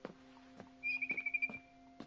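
A barn swallow chirps outside a window in What Remains of Edith Finch, a quick rapid twittering burst of about half a second amid faint sparse taps and a low steady hum.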